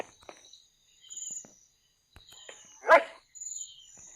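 A single Minecraft dog bark rings out amid sparse shuffling sounds and a high steady insect whine in a quiet setting.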